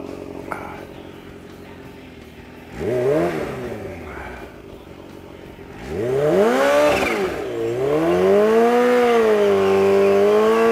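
An extended Kawasaki Ninja H2 motorcycle at a dragstrip revs up close and loud in two climbing bursts, then holds a high, wavering engine whine that rises and falls as it warms the tire.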